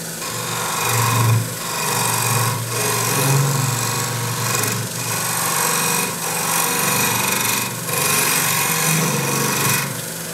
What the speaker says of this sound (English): now I'm going to use my detail gouge, and I'm going to back this up with my hand